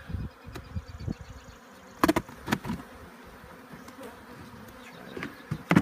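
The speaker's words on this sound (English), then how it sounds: "Now we got a box full of bees we gotta get up" Dense, steady insect buzzing from many bees close by inside a box, with a few sharper clicks and knocks against a hard surface mixed in.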